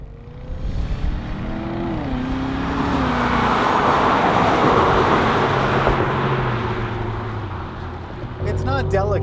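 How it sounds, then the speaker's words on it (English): A 2016 Cadillac CTS-V with a supercharged engine under way, its engine note rising and falling as it accelerates and shifts, with a sustained loud roar of road and wind noise swelling in the middle and tire or engine whine near the end. "you definitely hear the supercharger in the car"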